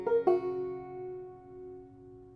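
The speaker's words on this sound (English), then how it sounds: "It's a recording of my banjo" Banjo recording cleaned with noise reduction: two quick plucked notes ring out close and clear, then a bright sustained tone slowly fades over a quiet background.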